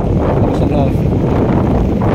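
Strong typhoon wind roars steadily into the microphone, a dense buffeting rush with no letup, loud and close throughout.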